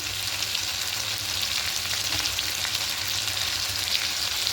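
Spices such as turmeric and chilli powder fry with ginger-garlic paste and salt in a pan for a Bengali dal, giving a dense, continuous sizzle that stays loud and even throughout.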